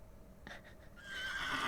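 Whinny from Thistlecrack, a horse in the adventure game The Excavation of Hob's Barrow, rising in the second half over a faint earlier rustle, with no talk.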